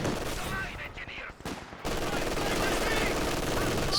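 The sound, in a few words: machine gun fire in Company of Heroes 2 video game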